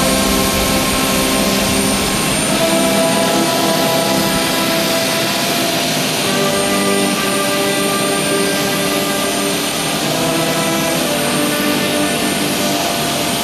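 An airplane jet engine roars loud and close with a steady high whine and sustained rumble, holding unbroken throughout with no voices over it.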